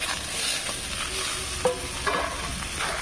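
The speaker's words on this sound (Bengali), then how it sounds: "এদিকে পাতা ছুঁয়ে মিশানো হয়ে গেছে, দিয়ে দেবো আলু" Potatoes tipped into spices frying in a pan for a fish curry with flat beans, then stirred, making a steady close sizzle with a few soft scrapes and knocks of the spoon.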